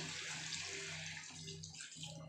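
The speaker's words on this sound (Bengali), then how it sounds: "এখানে আমি জল দিয়ে দেবো যাতে আলুটা ভালোভাবে সিদ্ধ হয়ে যায়" Water poured into a pot of potatoes for a soybean kosha curry, a close, steady rushing pour lasting about two seconds with a faint low hum beneath; no talking.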